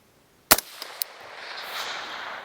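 A single rifle shot through a B&T SRBS-556 reduced-backpressure suppressor, one sharp close crack followed by a couple of quick metallic clicks and a lingering outdoor wash.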